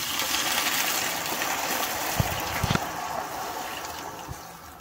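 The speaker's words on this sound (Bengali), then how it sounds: "মানে এরকম দিচ্ছি জল।" Water poured into a hot pan while cooking veg momo, a soft steady gushing splash with a few faint clinks, fairly quiet and without voices.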